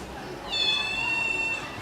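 A single drawn-out cat meow, fairly faint, with a thin high tone lasting about a second.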